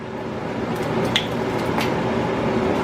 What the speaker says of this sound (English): So you're just going to take a little bottle of water, pour it in.